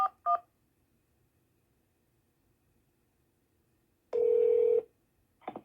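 Touch-tone keypad beeps on a home FreePBX phone system dialing an extension: two short tones at the start, then a longer steady tone and another brief burst, clear and close against a quiet line.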